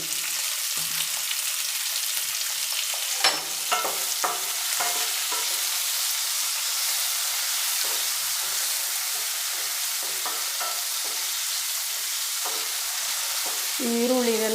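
Tomato and fennel seeds frying in a pan for a Naati-style chicken curry, a loud bright sizzle with repeated stirring scrapes and taps throughout.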